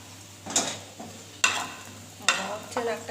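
Lentil fritters sizzling in hot oil as they are lifted out, with three or four sharp bursts of frying and scraping spaced about a second apart over a low steady crackle.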